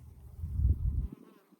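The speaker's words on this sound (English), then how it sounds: "Do you hear the bees?" A low buzzing drone of bees, swelling up and then fading away over a couple of seconds, fairly close.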